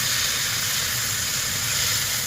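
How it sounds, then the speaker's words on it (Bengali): Shrimp tipped into a hot pan of onion and garlic, giving a steady, loud, close sizzling hiss that holds even throughout with no pauses. "তো এর মধ্যে ঢেলে দিলাম আমার চিংড়িগুলো।"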